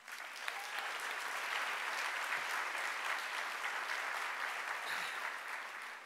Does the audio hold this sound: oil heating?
no